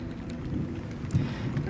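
A thunderstorm around vernal pools: steady rain hisses across the surface while low rumbles of thunder roll underneath, continuous and fairly close, with no voices.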